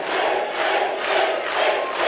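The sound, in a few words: boxing crowd cheering for a fighter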